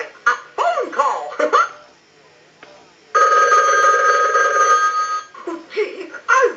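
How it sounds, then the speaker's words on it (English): Animated Mickey Mouse novelty telephone ringing during a demo ring cycle: a loud, sustained electronic ring bursts in midway, surrounded by a cartoon voice speaking before and after. "we want to use the analyzer and send a ring cycle like you were getting a call"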